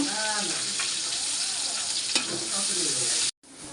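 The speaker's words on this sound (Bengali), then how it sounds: "চিংড়ি মাছটা একটু ভালো করে ভাইজা নেব" Shrimp rubbed with salt and turmeric sizzles and crackles steadily in a frying pan with onion, a loud, continuous hiss that cuts out abruptly near the end.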